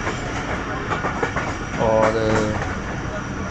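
A Shalimar Express passenger train pulls into Khanpur railway station, its wheels clacking and rumbling steadily on the rails with a louder swell midway, while platform crowd noise and a voice carry over it.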